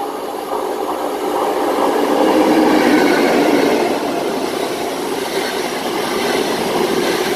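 A Virgin Trains service bound for London Euston rumbles steadily throughout, a loud continuous rail roar with faint clickety-clack, swelling slightly mid-way and holding close and constant.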